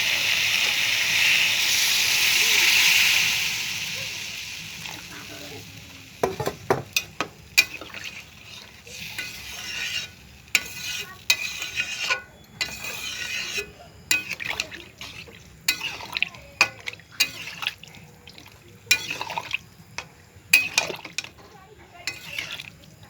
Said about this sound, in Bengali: এখন আমি জল ঢেলে দেবো